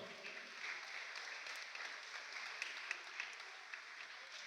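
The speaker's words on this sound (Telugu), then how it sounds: "అందరూ లేచి నిల్చోండి, గట్టిగా చప్పట్లు కొడుతూ లేచి నిలబడదాం" Audience at a church feast celebration claps as people rise to their feet, steady soft distant applause filling the hall with a few sharper claps standing out.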